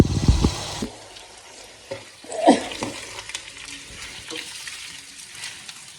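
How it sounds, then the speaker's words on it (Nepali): Chicken meat fries uncovered in a pan for a chicken gravy, with a soft, steady sizzle and a few louder bursts of stirring and scraping near the start and the middle. "अब चाहिँ हामीले यसलाई पानी नसुकुन्जेलसम्म नछोपिकन पकाउँछौँ।"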